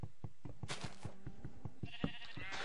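Sheep bleat in a video game, several short nasal bleats spread across the clip amid regular knocking thuds, like blocks being struck or mined, all at moderate level.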